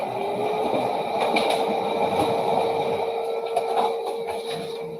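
A printer running through a page, giving a steady mechanical whir with a faint rising tone and light clicks and rattles, close and fairly loud for about five seconds with no talk.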